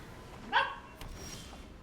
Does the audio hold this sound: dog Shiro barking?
yes